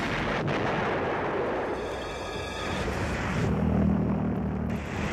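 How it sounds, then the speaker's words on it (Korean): A wartime V1 flying bomb explosion, heard as a loud, sustained rumbling blast that rolls on for several seconds with heavy low-end roar. "공기 흡입식 엔진의 소음이 들려오다가 한동안 소리가 사라지고 난 뒤에 어김없이 폭발이 일어났다."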